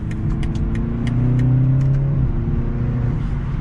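A 2022 BMW 330i sDrive engine accelerating, a rising mid-pitched drone that climbs steadily, then dips briefly as the gear changes and pulls again, heard from inside the car with no talk.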